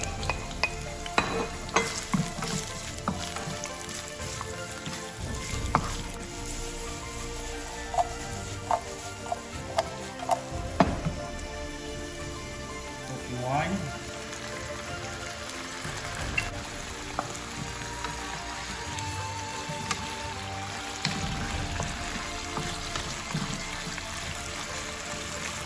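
Onion, ginger and garlic stir-fried in oil, a continuous close sizzle broken by frequent scraping and clinking of a utensil against the pan, with occasional louder stirring knocks throughout.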